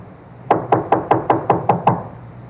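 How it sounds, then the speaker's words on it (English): Knocking on a door in an old radio crime drama: eight sharp, evenly spaced raps in a steady rhythm, close and clear with no talk over them. "Let him knock again."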